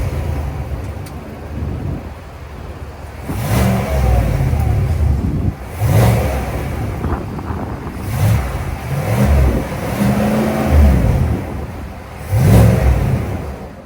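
A Cadillac Escalade ESV's 6.2-liter naturally aspirated V8 fires up and revs repeatedly, loud and close, with several sharp throttle blips rising and falling over a steady rumbling idle.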